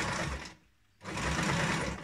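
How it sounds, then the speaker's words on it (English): A sewing machine running a back stitch on fabric for a kick scooter bag, a steady fast whirring hum that stops briefly and then resumes, close and alone. "So, pop this on the machine. And we're going to do a back stitch first."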